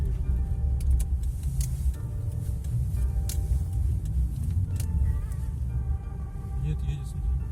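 A car's engine strains as it struggles to drive through deep snow during a Siberian snowstorm, giving a continuous low rumble that stays steady throughout while people talk nearby.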